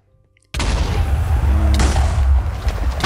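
Several Wither bosses in Minecraft explode at once after a near-silent start, a loud, sustained barrage of booming blasts that rolls on with a fresh burst partway through.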